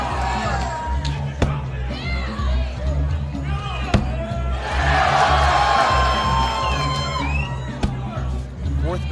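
Spectators at a cornhole tournament cheer and whoop, a broad swell of crowd noise rising midway and holding loud, with sharp bag impacts and a commentator talking over it.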